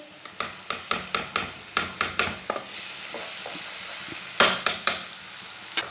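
Garlic paste fries in a pan under a soft background sizzle, punctuated by a rapid run of sharp, close clicks and taps from stirring against the pan.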